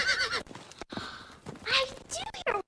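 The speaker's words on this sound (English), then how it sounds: "I can almost make believe that I hear horses right now." Horses whinny loudly several times in a short span, with hooves clip-clopping beneath the calls.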